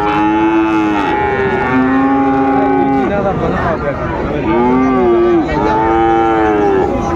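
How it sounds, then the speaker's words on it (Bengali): Friesian bull calves at a cattle market in Raniganj, Dinajpur, give loud, close, drawn-out moos, several calls in a row with short gaps between them. "ফ্রিজিয়ানের ষাঁড় বাচ্চা আমরা দেখছিলাম এখানে।"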